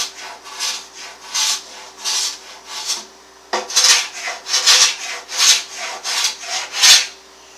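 A hand scraper rasps old finish off a light Victorian wooden end table in steady repeated strokes, about a dozen close, loud scrapes with a short pause partway through, and no voices.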